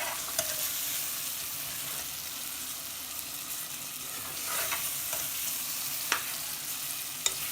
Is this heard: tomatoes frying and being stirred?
yes